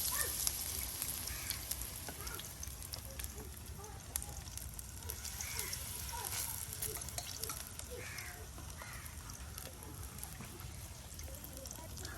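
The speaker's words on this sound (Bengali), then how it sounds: "এই দেখুন একদম সুন্দর করে তেলে ছেড়ে দেওয়া হলো, আর যেন বড়াগুলি মচমচে" Fritters (bora) deep-frying in oil at an outdoor village cooking spot on a winter morning, a soft, steady sizzle running throughout while crows caw now and then in the background.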